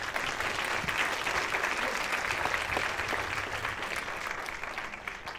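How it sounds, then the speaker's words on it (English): An audience at a film screening panel discussion applauds warmly, a dense, steady wash of many hands clapping from a moderate distance, tapering slightly toward the end. "Would you please give a round of applause to this great panel that we had?"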